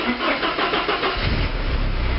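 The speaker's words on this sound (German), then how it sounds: "halten es gedrückt und starten den Motor" A Porsche 944 S2 engine cranks and catches, then settles into a low, rumbling idle close by.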